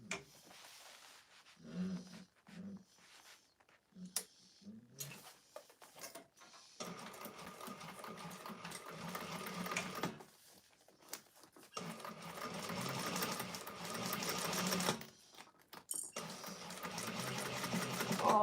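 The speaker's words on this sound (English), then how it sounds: "we're going to sew all of that together with a" A sewing machine stitches thick vinyl pieces of a bowler bag together with a 3/8 inch seam allowance, running in several short bursts separated by pauses, then in longer runs toward the end, with no talking.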